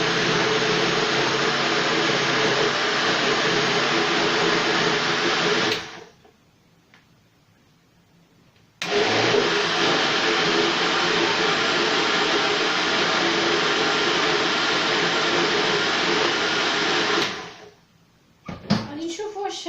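A blender grinding ingredients for orange brioche runs loudly in two long bursts with a pause in between, a harsh steady motor whir, then a clatter as it stops.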